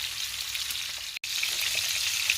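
Chicken hearts frying in small batches in a pan, a steady bright sizzle with faint crackles, briefly cut to silence in the middle before resuming evenly.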